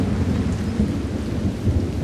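Thunderstorm with rain: a steady, dense wash of heavy rainfall with deep rumbling thunder rolling underneath, loud and continuous throughout.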